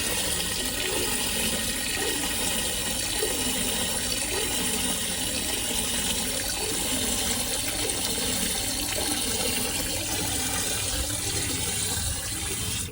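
Steady, loud rushing of fresh water pumping and swirling through a marine toilet for several seconds, continuous and close, with no voices.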